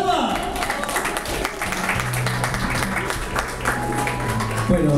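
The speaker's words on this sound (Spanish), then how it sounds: "Vienen los aplausos para recibirlo." Guests at a quinceañera party clapping to welcome the godfather, a brief burst of indoor applause mixed with chatter and background music.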